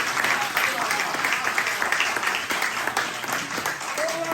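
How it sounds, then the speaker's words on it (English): Clapping from a Patriots meeting audience welcoming Ron, steady and fairly close, with faint voices mixed in throughout. "let's give a round of applause for Ron"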